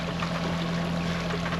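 A sailboat's engine runs at 1100 rpm during a crossing from Melilla to Malaga, giving a steady, close, low droning hum with a constant pitch and broadband wash, and no speech.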